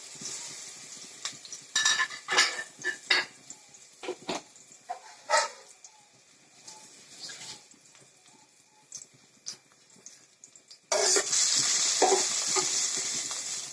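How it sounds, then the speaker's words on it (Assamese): Chopped onions frying in a pan for an Assamese hilsa fish curry, with steady sizzling broken by stirring scrapes and clinks of a utensil against the pan, growing louder and denser near the end. "থোৱা পিঁয়াজখিনি মই ফ্ৰাই কৰি ল'ম।"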